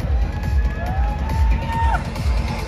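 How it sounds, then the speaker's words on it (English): A crowd at a men's physique bodybuilding contest at the 2022 Amateur Olympia in India cheers and whoops for a lineup of athletes, a steady roar with whistling calls over low thumping beats. "Let's give these guys a round of applause."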